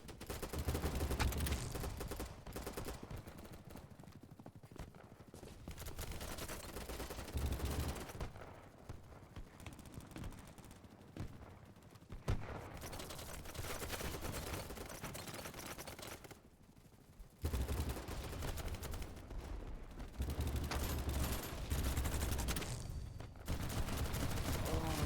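Rapid gunfire from the BattleBit video game, dense bursts of shots nearly continuous across the clip with a few brief lulls, loud and close.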